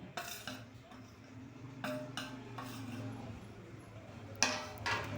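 Potato chips coated in egg are tossed with flour in a bowl, making soft rustling mixing sounds broken by a few sharp clinks of a utensil against the bowl. Faint talk runs underneath.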